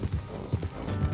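Horse hooves clop steadily at a trotting pace in the video game Red Dead Redemption 2, close and fairly loud, with no voices over them.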